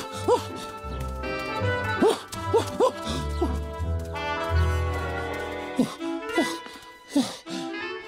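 A cartoon character, a sheep, imitates a barking dog with a run of yips, woofs and whimpers, mixed with other voices in a lively animated scene.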